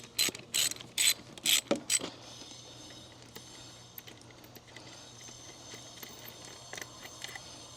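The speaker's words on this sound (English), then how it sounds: "You can use a wrench or you can use a socket, whatever you like." Socket wrench ratcheting out 9/16 bolts on a pool pump motor, a few sharp close bursts of clicking at the start, then quieter faint mechanical handling.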